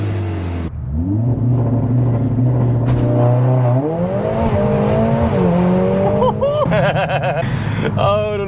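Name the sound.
Mercedes-AMG A45S engine and exhaust revving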